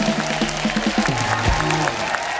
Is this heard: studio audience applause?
yes